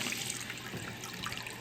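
After a flapper replacement, water rushes steadily into a toilet tank with a continuous, faint hissing trickle and no talk.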